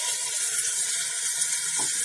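Steady splashing hiss of water poured into a pan, continuous and close for a couple of seconds.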